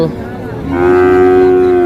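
A single loud, close moo from Friesian cross cattle at Hazratpur cattle market starts low and swells into a long, sustained bellow, with faint background noise before it.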